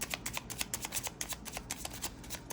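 Tarot cards being shuffled by hand, a steady rapid riffle of crisp flicks close up, continuous and alone with no talk.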